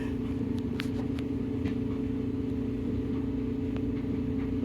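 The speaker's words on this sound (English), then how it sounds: "the clutch is not disengaging, so it's going to do it again, I bet" A Maytag Centennial washing machine with a clutch that won't disengage, giving a steady loud mechanical rumble and motor hum with a few faint clicks on top.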